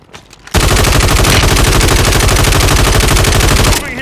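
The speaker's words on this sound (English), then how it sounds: "Assault rifle here." Sustained automatic assault rifle fire in Call of Duty Warzone, a loud rapid stream of shots lasting about three seconds before cutting off.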